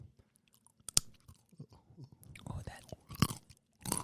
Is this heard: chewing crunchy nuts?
yes